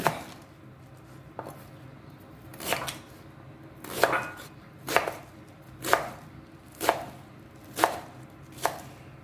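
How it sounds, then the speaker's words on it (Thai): A knife chops Chinese cabbage on a board in sharp, separate strokes, a few at first and then a steady rhythm of loud, close cuts. "ช่วงที่เนื้อเรายังไม่สุกก็มาหั่นผักเตรียมไว้เลยจ้า"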